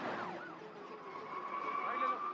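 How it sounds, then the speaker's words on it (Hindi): A police car siren wailing as the vehicle draws near, a rising and falling tone that steadies into a sustained pitch, fairly loud against a background of dramatic film sound with no talk. "पुलिस की गाड़ी आ रही है,"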